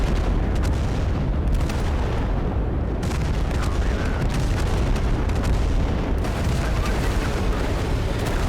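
Rockets explode around clustered players in the video game Total Conflict: Resistance. Heavy, continuous booming battle noise runs throughout, with sharp blasts punctuating it at intervals.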